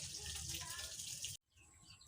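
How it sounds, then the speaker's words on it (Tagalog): Water runs steadily from a kitchen sink tap as someone washes dishes, a continuous close hiss that cuts off abruptly partway through, leaving a quieter room with faint background sound. "May naghuhugas ng plato."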